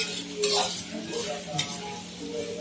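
Chicken sizzling in hot oil, with bursts of crackling and a utensil stirring and scraping the pan, close up.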